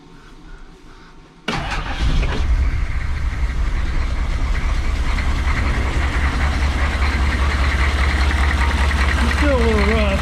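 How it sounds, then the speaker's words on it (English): A 1994 GMC 3500 HD engine cranks and catches, then settles into a loud, uneven idle with a lumpy, rough pulse, and a voice briefly speaks near the end. "Still got a bit of a rough idle going on."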